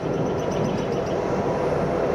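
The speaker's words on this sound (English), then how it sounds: "That's gonna be a super long train" A very long freight train pulled by four locomotives crosses a high railroad bridge over a valley in Kentucky, heard from a distance as a steady, even rumble and roar without a break.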